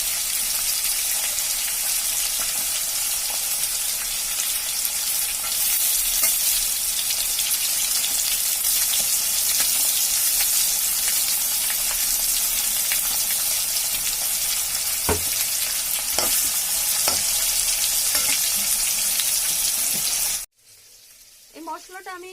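Onions sizzle loudly in hot oil with already-fried spiny gourd and potato pieces, a continuous crackling hiss with occasional stirring knocks, cutting off abruptly near the end.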